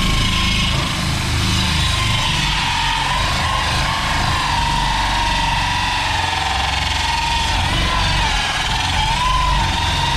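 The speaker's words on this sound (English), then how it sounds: "drill away." Power drill boring into fiberglass swimming pool plumbing, a loud continuous motor whine that wavers slightly in pitch over a low rumbling background, sounding close.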